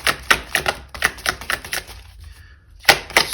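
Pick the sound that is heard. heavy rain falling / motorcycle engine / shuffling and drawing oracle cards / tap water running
shuffling and drawing oracle cards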